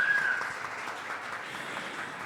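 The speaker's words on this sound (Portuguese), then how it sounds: "uma salva de palmas para ela" A seated audience at a women's event in Norte Pioneiro applauds, a continuous even wash of clapping that fades slightly toward the end, with no voices over it.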